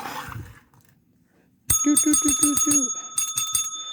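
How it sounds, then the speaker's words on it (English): A new little bell rings in a quick run of about eight bright, metallic strikes, each leaving a sustained ring, loud and close. Brief quiet talk comes before it, and a few more rings follow. "I'll move my little bell over here. I got a new bell"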